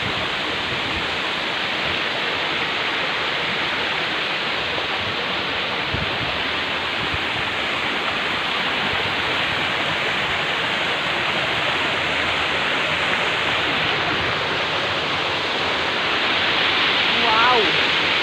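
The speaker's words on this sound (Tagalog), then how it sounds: "Ayan yung pinaka-typical na falls guys." A waterfall at a trail resort pours out a loud, steady rushing roar. It stays even and continuous the whole time, with no break.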